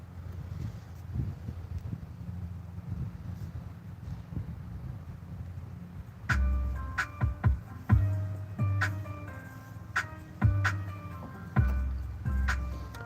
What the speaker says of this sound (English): So right now, what you're hearing is an AI generated beat starter.